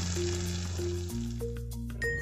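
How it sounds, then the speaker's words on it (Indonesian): Spice paste sautéed in a pan for gulai kalio, sizzling steadily and close, with faint stirring and tonal hum from the kitchen in the background, no talking. "kita tumis sampai tane biar tidak makanannya nggak mudah basi"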